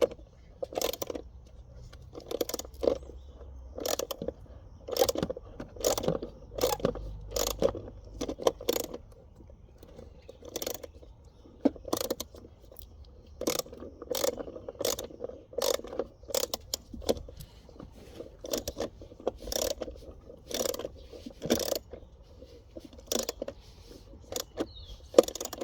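Hold-down bracket on a Ford Mustang GT battery being loosened with a ratchet: a long run of quick, crisp metallic clicks in steady bursts, close up and without talking.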